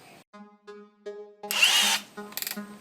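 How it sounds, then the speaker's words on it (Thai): A cordless brushless hammer drill, with a 12 mm bit in a 13 mm chuck at maximum torque, bores into an existing hole: a loud, close burst of drilling and then a brief rattle of hammering impacts, following quieter motor tones. "12 มิล แล้วเจาะเข้าไปที่รูเดิมดูที่ว่ามันจะแจ่มปะ"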